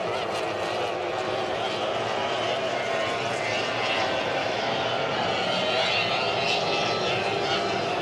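Formula 1 racing powerboat engines roar steadily at a race, a dense, continuous high-revving drone that stays loud and unbroken, with a commentator talking over it.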